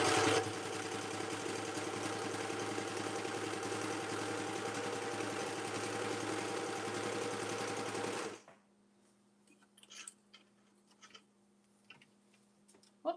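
A sewing machine stitches steadily and loudly for about eight seconds with a fast, even mechanical whir, then stops, leaving a faint hum and scattered small clicks and handling sounds.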